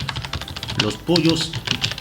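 Rapid clicking of computer keyboard keys while typing, close and uneven in rhythm, with a voice speaking over part of it.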